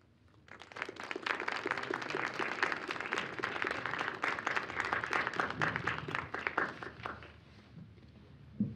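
A lecture-hall audience of participants at a theatre conference breaks into dense, sustained applause that rises quickly, holds for several seconds, then tapers off, close and full.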